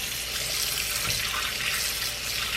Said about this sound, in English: squish it between my hands under running water to rinse it out